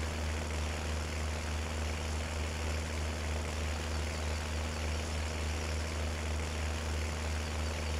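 Tractor engine in the Farming Simulator game droning at a constant, steady pitch with a low hum and even noise, with no talk and no change in level.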